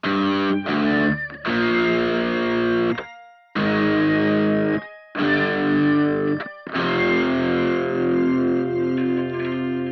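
An electric guitar through a Headrush Prime organ octave effect plays chords and single notes, thick and slightly distorted, in several phrases separated by brief pauses.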